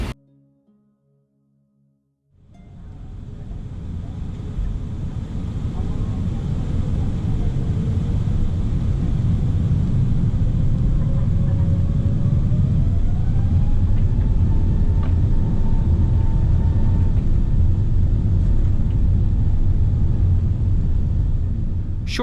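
Steady, loud low-frequency engine rumble and airflow roar inside a Singapore Airlines A380 First Class suite climbing out after takeoff from Frankfurt, building up from quiet within the first few seconds, with a faint rising whine tone and no talk.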